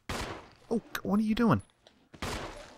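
Gunshots in the video game Resident Evil REmake, a few sharp bursts at the start and end with a player talking in between.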